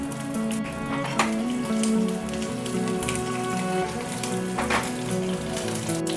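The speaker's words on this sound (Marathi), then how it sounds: "आपण इथे तेल घालून पॅन गरम करून घेतलेला आहे यामध्ये कढीपत्त्याची पानं लसूण अद्रक" Curry leaves, garlic and ginger sizzle and crackle in hot oil in a pan, a steady close frying hiss with sharp pops, and no one talks.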